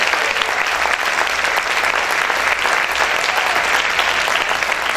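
Loud, sustained applause from a church congregation during a worship service, dense continuous clapping throughout with no break and no speech over it.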